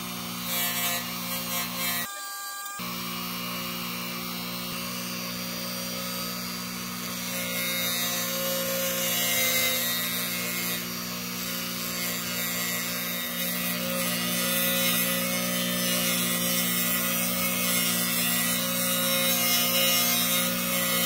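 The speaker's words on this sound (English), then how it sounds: "I'll use a leather wheel with some buffing compound." A leather buffing wheel loaded with polishing compound runs against copper earring accents, giving a steady, close whirring and rubbing drone that holds throughout, with one brief break near the start.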